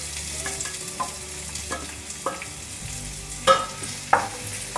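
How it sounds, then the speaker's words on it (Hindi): Roughly chopped onion with cumin frying in a pan over a low-to-medium gas flame, giving a soft, steady sizzle with occasional louder stirring scrapes and clinks, fairly quiet and close. "इसे हम हल्का सुनहरा होने तक भूनेंगे"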